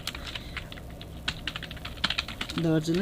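Typing on a computer keyboard while writing Java code, a series of crisp, irregular key clicks at close range, with a few louder taps and a brief low hum near the end.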